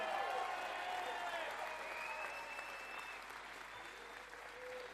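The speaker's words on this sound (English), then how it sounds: "Give the Vance team a round of applause." Campaign rally crowd in Newtown, Pennsylvania breaking into loud sustained applause, a broad continuous wash of many hands with cheering that gradually eases over several seconds.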